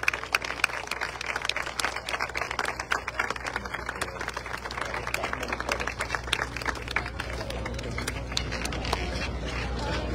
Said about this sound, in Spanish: Que se escuche el aplauso, por favor, que sea generoso